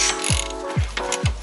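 A ratchet turns a 3/4 inch socket on a castle nut of a vehicle's tie rod, giving a steady run of close, loud metallic clicks broken by three quick reversing swings.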